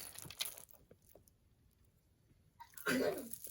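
After some quiet rustling and faint voices, a sudden sharp sneeze bursts out nearby near the end.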